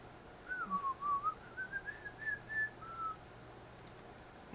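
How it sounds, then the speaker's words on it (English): A single person whistles a short wavering tune, close and clear, with no talking. "I can't whistle very well"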